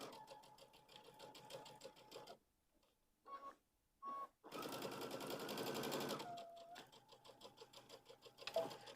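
A sewing machine stitches fabric for a children's pumpkin pillow project, running in steady buzzing bursts separated by short pauses and brief clicks, close and fairly loud.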